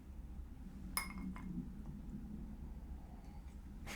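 A cocktail glass gives a single bright clink near the start, followed by a few softer glassy taps. They sit over a steady low room hum, with no voices.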